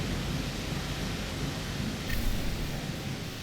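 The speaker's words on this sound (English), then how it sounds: "I kind of wish the rain would clear up." Heavy rain in the video game Rain World pours as a dense, steady hiss with a low rumble beneath it, continuous and fairly loud, with no talk over it.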